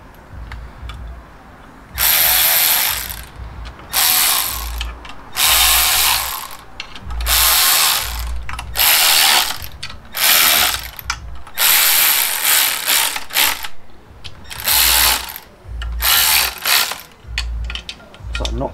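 A hand ratchet runs bolts down during a Suzuki Samurai engine swap, its bursts of loud, rapid pawl clicking lasting a second or two each with short pauses between, close up and alone.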